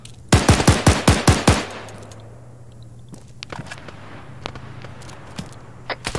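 Video game gunfire from the building next door: a rapid automatic burst of about eight loud, close shots, then scattered fainter shots and clicks in the background.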